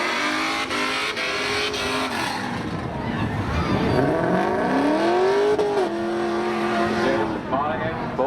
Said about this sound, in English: Monaghan both taking the opportunity to melt their rubber, make sure they get a nice solid start when the green flag waves